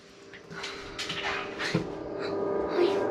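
A pet dog whimpering and panting close by, short high whines and breathy huffs in irregular bursts over a low room hum.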